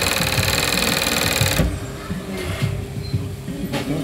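A sewing machine stitches strips of mink fur for a coat, running at a loud, rapid mechanical hum with a low knocking beat that suddenly stops, followed by softer rattling and handling sounds nearby.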